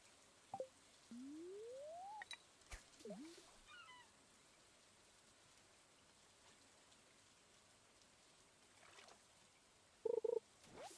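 Rain falls softly and steadily on a farm in the video game Stardew Valley, a faint hiss broken by a few brief tones and chirps from the game.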